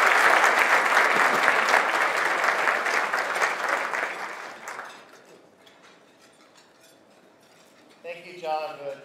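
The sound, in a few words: audience applause welcoming the speaker John Trasvina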